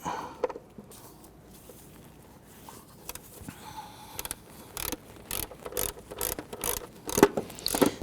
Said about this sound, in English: We're going to use a shallow 10mm in our ratchet.